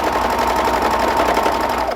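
Sewing machine running continuously as it stitches a knit T-shirt seam, a steady, close, fast mechanical whir with rapid needle chatter that carries through without pause until it tapers at the very end.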